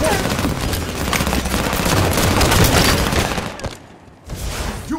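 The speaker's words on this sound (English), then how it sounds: "They're firing on Red Street." Dense, continuous gunfire in Halo 5: Guardians multiplayer, a heavy overlapping barrage of shots that breaks off briefly near the end before resuming.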